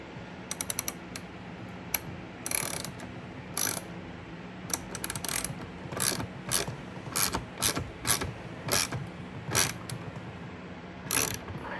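A ratchet clicks in short bursts while a bolt is tightened on an Indian Challenger motorcycle saddlebag lid, crisp close pawl clatter with pauses between strokes.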